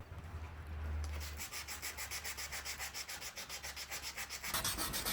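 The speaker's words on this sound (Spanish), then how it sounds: "Sigo lijando, que no me falta mucho." Hand sanding on a motorcycle being refitted, a steady rhythmic scraping of sandpaper in repeated back-and-forth strokes, close and moderately loud, with a low hum underneath during the first part.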